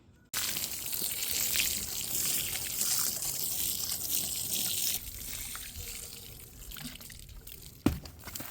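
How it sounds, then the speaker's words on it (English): Water poured or sprayed over freshly planted garlic in a winter garden bed, a steady close splashing and trickling that runs throughout, with a brief sharper knock near the end. "you just want to water these in really well"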